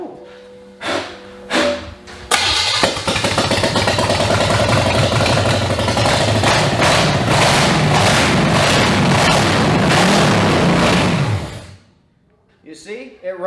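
A junkyard GM engine cranks in short bursts, then catches and runs loud and rough for about nine seconds before cutting off, with people talking nearby.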